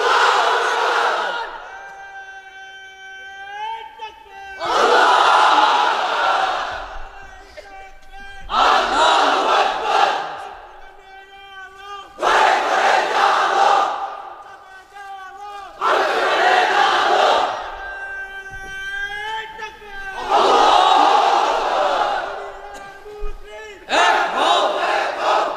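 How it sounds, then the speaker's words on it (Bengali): A huge crowd of young unmarried men at an outdoor Islamic religious gathering in Bangladesh roars a chanted takbir in call-and-response rounds, each massed shout rising and falling in waves roughly every four seconds, loud and echoing, with a lone leading voice between. "এবার অবিবাহিতরা দাও লিল্লাহি তাকবীর।"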